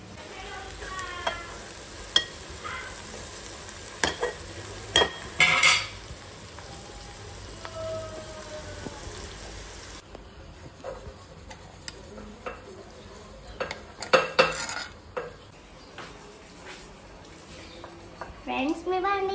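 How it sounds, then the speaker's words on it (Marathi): Stuffed vegetables shallow frying on a tava give a steady sizzle with scattered ticks and scraping stirs, the sound shifting midway. "ते मस्त तव्यावर फ्राय करू. शॅलो फ्राय करायचे, डीप फ्राय नाही करायची."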